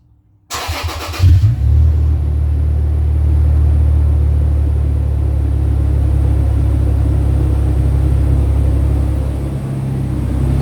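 A Toyota FJ Cruiser fitted with a dual chamber exhaust starts up and idles, settling into a loud, steady low rumble heard close by for about ten seconds, with no talking.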